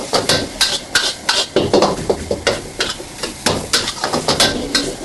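A ladle taps repeatedly against a wok while traditional-style fried rice is stir-fried, giving loud, uneven metallic clacks and scrapes over a soft sizzle.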